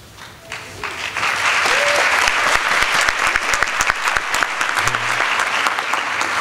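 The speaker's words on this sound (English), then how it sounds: "It's nice when blessings get applause." An audience at a baccalaureate service breaks into applause after a blessing from a campus rabbi, building within a second into loud, sustained clapping from a full hall.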